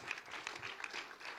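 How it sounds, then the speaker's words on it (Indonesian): Church congregation applauding during a Sunday worship service, a steady wash of clapping from a crowd that holds at an even level without pause. "Beri tepuk tangan yang luar biasa."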